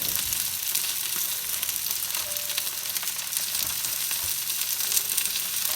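Steamed potatoes sizzle and fry steadily in a hot pan. The crackling hiss is close, even and continuous throughout, with no talking.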